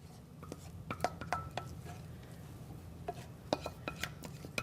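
Cheese sauce being stirred into a ground sirloin dish in a pan, with faint scraping and light clinks of a utensil against cookware, close and quiet.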